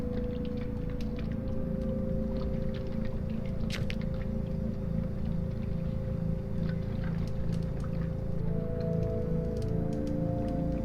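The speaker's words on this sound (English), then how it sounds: "the engine splutters and dies" In The Drifter, a vehicle engine idles with a steady low rumble and drone, then its tone shifts near the end as it splutters, held continuously with a few faint ticks above.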